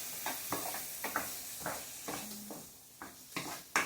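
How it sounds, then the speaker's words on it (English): Onions browning in a pan for lasagna, stirred in a series of soft scraping strokes over a faint steady sizzle, close by with no talking. "Don't forget to stir your onions. We don't want those to burn."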